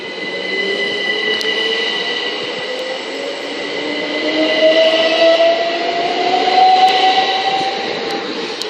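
Southern Class 377 electric train on the Brighton Main Line at Honour Oak Park, a steady loud rumble with a rising whine and high sustained tones that could include a one-tone horn; no talk.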